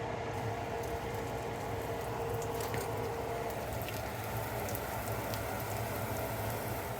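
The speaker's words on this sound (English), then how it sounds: "we're gonna get these pork pieces done in small batches, so that they fry crispy" Small batches of pork pieces frying crispy in hot oil for a curry give off a steady, dense crackle and spatter that runs unbroken throughout at moderate level, with no talking.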